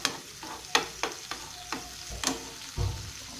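Sliced leeks fry in oil for a quiche filling, a soft steady sizzle broken by several sharp clicks and scrapes of a utensil stirring the pan, close and fairly quiet.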